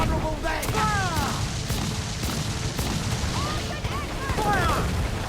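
Pirate ship cannons firing in a naval battle in Assassin's Creed 4 Black Flag, a series of loud booms over a rumbling battle din, with crew voices shouting between the shots.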